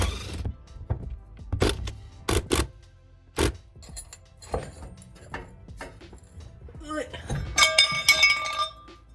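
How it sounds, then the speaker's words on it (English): Metal wrench working bolts off a bracket on a Nissan 240SX S13 during a manual swap, sharp clinks and clanks of tools on metal at irregular intervals, close by, with occasional talk. "take off these two bolts"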